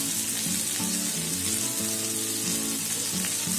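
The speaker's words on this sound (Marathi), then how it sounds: "2 मिनिटं आपल्याला फ्राय करून घ्यायचं आहे" Sliced capsicum and round tomato slices with salt, black pepper powder and chili flakes frying in a pan, giving a continuous bright sizzle with faint stirring scrapes and no talking.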